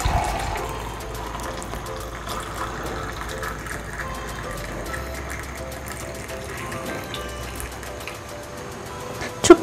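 Hot dry ginger coffee (chukku kappi) pours steadily into a glass, a continuous liquid stream under a low room hum, ending with a brief knock.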